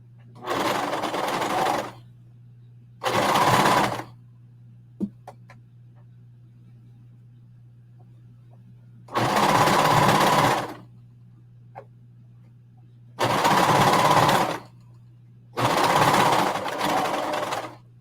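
A sewing machine topstitches fabric panels for a pair of leggings in five separate runs of about one to two seconds each, loud and close, with quiet pauses and a faint steady hum between them.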